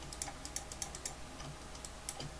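Light, quick clicks from a computer mouse and keyboard during a click-and-drag with the Shift key, close and quiet, scattered irregularly with no voices.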